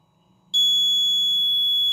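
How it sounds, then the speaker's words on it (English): Buzzer alert from an Arduino gas alarm system with an MQ6 gas sensor, a steady high-pitched electronic tone that starts abruptly and holds loud and continuous for over a second, nothing else around it. "Okay, buzzer alert."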